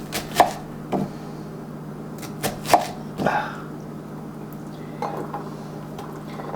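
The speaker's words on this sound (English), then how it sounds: "That's the thing about slicing up onions." A knife cuts through onions on a cutting board for beer batter fritters, a few sharp, irregular chops with short gaps between them, close and clear over a soft kitchen hum.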